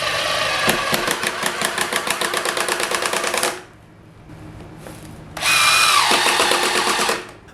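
A Milwaukee oil pulse impact driver runs in a dense, rapid pulsing burst peaking around 84 dB, pauses briefly with low hum, then fires another steady buzzing run at close range.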